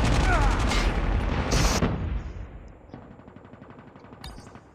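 Man-O-War rifle fire in Call of Duty Mobile: a loud rapid automatic burst up front, tapering into quieter scattered shots and echoing reports as the firing trails off.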